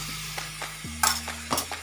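A few soft scraping clicks of a spoon stirring stuffed okra in a pan, with a steady low hum running underneath.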